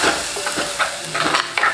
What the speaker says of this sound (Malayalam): അതിലേക്ക് നമുക്ക് തക്കാളി ഇട്ട് കൊടുക്കാം.